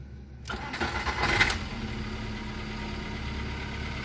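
A 2005 Volkswagen Polo engine is cranked and starts after a short silence, a loud starter whir catching into a revving burst that settles to a steady, fairly close idle.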